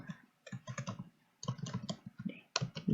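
Someone types on a computer keyboard and presses the Tab key, giving close, clicky keystrokes in quick runs separated by brief pauses, with no talking.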